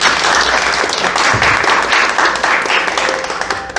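An audience at a peace prayer concert for Ukraine, with cello and piano performers, gives sustained applause. The clapping is loud and dense, with a faint voice briefly audible in the room.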